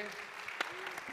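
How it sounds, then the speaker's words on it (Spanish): Brief, faint applause from an audience closing a debate session at a gastronomy congress in Soria, with a steady patter of clapping and a voice faintly audible underneath. "Un fuerte aplauso para nuestro debate."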